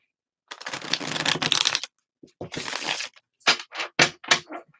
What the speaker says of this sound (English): You can probably hear me shuffling these cards.